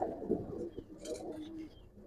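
A silver Giribaz pigeon coos softly nearby, low throaty burbling notes with a brief higher rustle in the middle.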